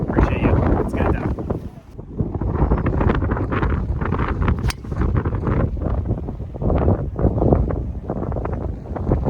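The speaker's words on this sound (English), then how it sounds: "There's a lot of wind up here." On a freezing golf course, strong wind roars and buffets the microphone almost continuously, with rumbling gusts throughout and a brief lull near the two-second mark.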